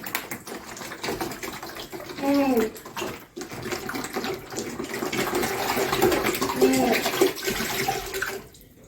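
Water glugs and splashes as bottles are emptied out, with a couple of gurgling pours standing out over a steady running-water wash and background noise.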